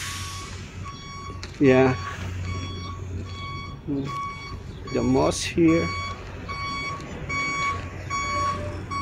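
A truck reverses inside a camp, its steady series of high reversing beeps repeating throughout over a low engine rumble, while people talk loudly nearby.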